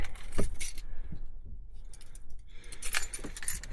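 A bunch of keys jingles and clinks in light metallic bursts at the start and end, close by and moderately loud, at a camp in a New Mexico canyon, with no voices.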